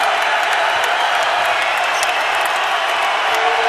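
Basketball arena crowd at an NCAA men's game between Arizona and Utah roars in a loud, sustained wall of cheering, with scattered whoops rising over the dense, steady noise.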